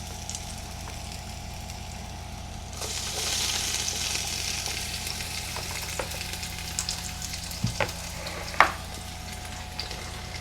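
Minced and freshly chopped garlic sizzling in hot oil in a pan, a soft steady crackle that swells after a few seconds, with occasional clinks and a sharp knock near the end, quiet and without talk.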